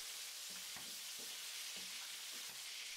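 Chicken pieces stirred and pushed aside in a paella pan for a chicken and seafood paella, a steady broadband sizzle with a few soft utensil scrapes at regular intervals.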